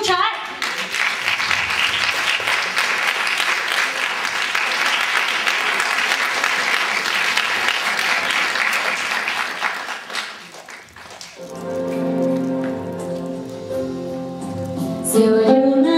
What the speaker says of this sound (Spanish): Pues recibamos con un fuerte aplauso y a escuchar